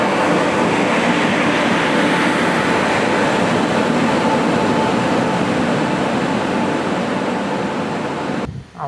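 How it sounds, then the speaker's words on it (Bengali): The Uttarbanga Express pulls into platform 1 at New Cooch Behar Junction with a loud, continuous rumble and roar that stays level throughout, then cuts off abruptly at the end. "1 নম্বর প্ল্যাটফর্মে ঢুকছে উত্তরবঙ্গ এক্সপ্রেস।"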